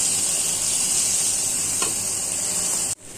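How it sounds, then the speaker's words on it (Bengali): Prawns fry with onions in a pan, a loud, close, continuous sizzle that cuts off abruptly near the end. "পেঁয়াজের সাথে লাল করে নিব চিংড়ি মাছগুলো"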